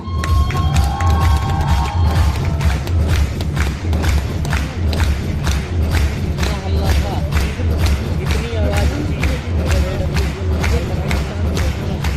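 At a women entrepreneurship summit in Dwarka, India, an audience claps steadily to welcome a speaker on stage: dense, sustained applause filling the room, with a few cheers and scattered voices mixed in.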